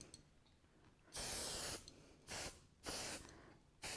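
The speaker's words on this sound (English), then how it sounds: "I'm going to use my stick and spray, and I'm going to spray my wadding." Stick-and-spray adhesive is sprayed onto wadding while making a fabric cosmetic bag, four short, close, hissing aerosol bursts separated by brief pauses.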